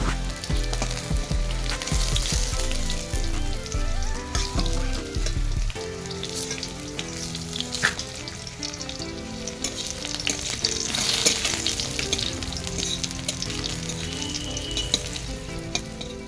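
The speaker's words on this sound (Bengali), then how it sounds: "কুমড়োগুলো আমার ভাজা হয়ে এসছে।" Pumpkin slices frying in a pan: a steady, close, loud oily sizzle runs throughout, with occasional scraping and stirring clatter and a low tonal layer underneath; no talking.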